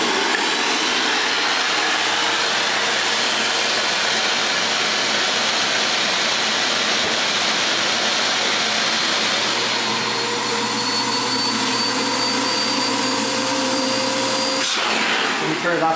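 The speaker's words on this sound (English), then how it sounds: "The shop vac, when it's fully inflated, you'll hear a different sound on this blower." A shop vac run as a blower inflates a HoverMatt HoverJack, giving a loud, steady roaring whoosh throughout whose pitch shifts audibly as the jack fills toward full inflation.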